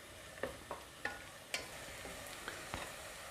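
Onions sautéing in a pan for a simple mutton curry, a soft steady sizzle broken by several sharp spoon scrapes and taps against the pan, close and fairly quiet, with no voices.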